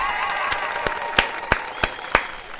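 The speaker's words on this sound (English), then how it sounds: "give yourself a round of applause" A handful of distinct, spaced claps ring out over a faint crowd murmur and tonal background during a live weekend talk show, sounding sparse and close rather than like a full audience.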